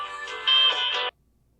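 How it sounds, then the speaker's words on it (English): A cell phone rings in a quiet room during a MakerCAM CNC tutorial: a single short electronic tonal ring burst of about a second, fairly close, that cuts off abruptly into silence. "My cell phone rang."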